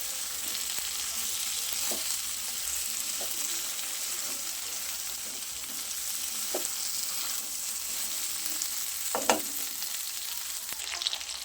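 Stuffed okra (bharela bhinda) fries in oil over a high flame with a steady, even sizzle throughout, broken by a few soft scrapes and knocks of stirring near the end.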